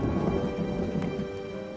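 Rain falls on an old Roman bath building, a steady dense hiss with low rumbling underneath that holds at an even level throughout, with no talking.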